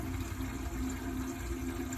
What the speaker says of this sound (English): can hear how fast it's draining now